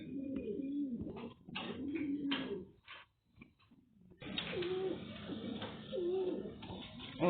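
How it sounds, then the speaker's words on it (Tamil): Pet pigeons coo in soft, repeated throaty calls close by as their cage is opened, with a short pause partway and no talking. "எங்க மம்மி போய் புறா கூண்டை ஓபன் பண்ணி எல்லா புறாவையும் வெளியே விட போறாங்க"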